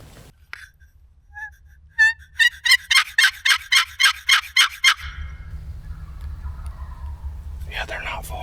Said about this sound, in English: the birds just gobbled again